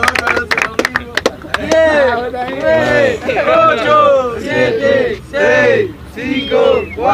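A crowd at the final of a freestyle rap battle claps in quick bursts, then breaks into loud, sustained cheering and shouting up close.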